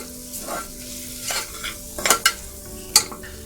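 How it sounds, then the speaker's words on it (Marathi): Coriander and red masala being sautéed in a pan for a green val bean dish, soft sizzling under several sharp spatula scrapes and knocks against the pan. "चांगलं परतून घेऊया अर्धा मिनिट"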